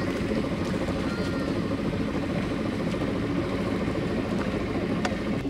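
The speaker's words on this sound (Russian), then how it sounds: "Вот наш катер." A six-seat motor boat's engine running steadily, a constant low rumbling hum with faint water wash, moderately near and unbroken.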